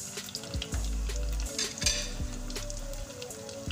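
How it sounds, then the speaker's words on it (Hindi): Kebabs for kebab Manchurian frying in hot oil give a steady, close sizzle, with a few stirring scrapes and clinks of a utensil against the pan. "कबाब डाल के अच्छी तरह से फ्राई करेंगे"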